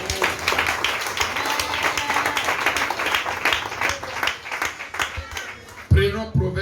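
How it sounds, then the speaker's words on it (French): A church congregation applauds and cheers at a French-language sermon, a dense, steady wash of clapping and voices that carries on throughout, with a sharp louder burst near the end. "Dis Amen et acclame le Seigneur."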